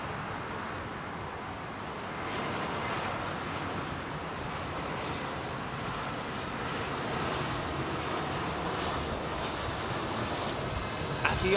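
Eurowings airliner operated by Avion Express Malta at Heathrow, a broad steady jet engine roar that swells after a couple of seconds and holds at a moderate distance throughout.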